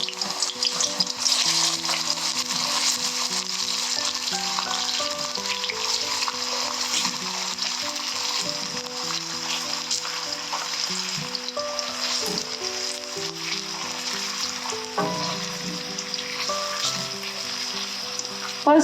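Chopped onions frying in hot oil over a high gas flame for an East Indian chicken curry, a steady dense sizzle that runs on without a break, close and fairly loud, with no voices.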